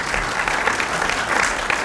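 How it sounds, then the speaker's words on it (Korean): An audience applauding during a church dedication and founding service, a dense steady burst of hand clapping that fills the whole moment without voices. "우리 총무님께도 박수 주십니다."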